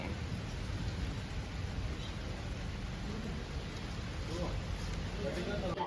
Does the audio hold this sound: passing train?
no